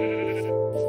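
A single sustained sheep bleat in a video game, loud and close, heard alone without any talk.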